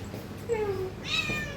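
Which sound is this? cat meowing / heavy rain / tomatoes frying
cat meowing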